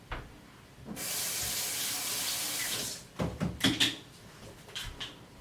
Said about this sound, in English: I'm going to rinse my tongs off.